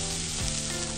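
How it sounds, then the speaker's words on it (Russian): Steady, close sizzling of buckwheat and button mushrooms frying in a pan, a continuous crackling hiss with a faint stir partway through. "Жарим так буквально 2-3 минутки"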